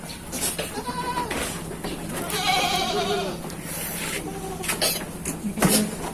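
Several goats bleat repeatedly inside a goat pen, overlapping wavering cries at moderate distance over a steady background hiss and rustling, with occasional thumps.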